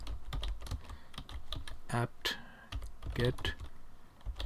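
Typing a Linux install command on a computer keyboard, with sharp irregular key clicks throughout and brief speech in between.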